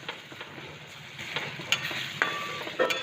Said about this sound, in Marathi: चम्मचने मी त्याला थोडंसं बारीक करत आहे।